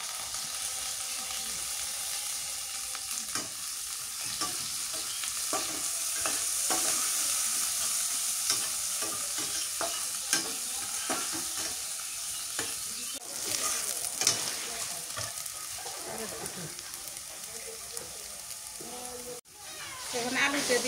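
Onions sizzle and fry in a hot pan while being stirred, a steady close crackling hiss with scraping strokes throughout, part of a home-cooked dish made with homegrown vegetables.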